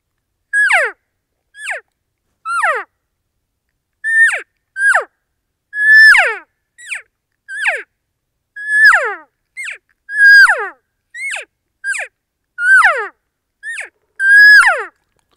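A diaphragm elk call imitates elk cow calls: a string of about twenty short, high, nasal mews with a sharp downward slide, spaced irregularly and heard close and clear against silence.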